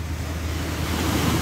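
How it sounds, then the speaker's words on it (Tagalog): Sea waves at Sandy Bay, Hong Kong, at sunset wash in a steady, continuous roar, with gusts of wind buffeting the microphone throughout. "yung dagat"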